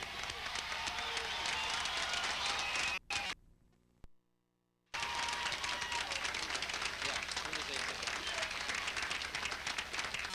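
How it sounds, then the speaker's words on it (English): Standing audience applause at a college commencement ceremony for the graduating class, a dense sustained roar of clapping that cuts out briefly near the middle, then resumes just as loud. "Will everybody stand and give the class of '88 a rousing applause?"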